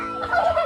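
A brief, close turkey gobble in a village, a quick warbling burst of throaty calls lasting under a second.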